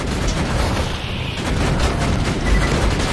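Sentry gun turret in Borderlands 2 firing continuously, a dense, loud stream of rapid shots and booming impacts that runs the whole time with no pause.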